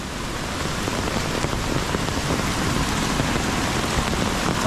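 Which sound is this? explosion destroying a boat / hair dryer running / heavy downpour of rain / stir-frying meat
heavy downpour of rain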